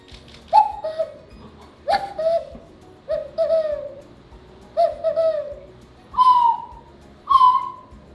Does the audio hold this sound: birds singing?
yes